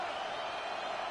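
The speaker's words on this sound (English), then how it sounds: "Well, this crowd into it now." A stadium crowd in an arcade-style American football video game cheers in a steady, moderately loud wash of noise, continuous across the moment without distinct peaks.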